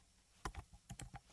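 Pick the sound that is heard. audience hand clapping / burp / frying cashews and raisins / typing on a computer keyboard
typing on a computer keyboard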